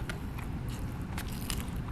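Crunchy bites into freshly fried fish, several crisp crackles close to the mic over a low background rumble.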